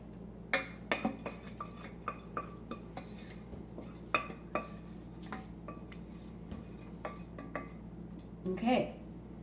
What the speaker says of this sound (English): I try to scrape as much of the gooey stuff as I can because that's what makes it good